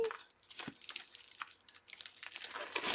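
A pack of Gathering Together paper is handled and crinkled during an unboxing, with close, dry crackles and rustles arriving in irregular bursts across the few seconds, fairly quiet overall.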